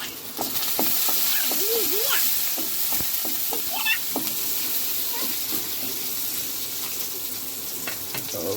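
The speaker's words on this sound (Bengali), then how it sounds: "প্রথমে আমরা তেল দিলাম, আমরা পেঁয়াজ দিলাম, তারপর একটু করে কিছুক্ষণ নাড়াচাড়া করবো পেঁয়াজগুলো" Onions frying in oil in a pan while being stirred, with a continuous soft sizzle and occasional scraping of the spoon, close by and moderately quiet.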